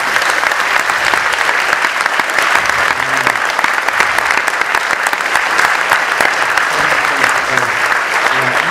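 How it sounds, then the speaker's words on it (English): Audience at a public interview with a film director and cast applauding the cast and crew, loud continuous clapping from a large crowd with a few murmuring voices underneath. "I think everybody involved in this film deserves a round of applause."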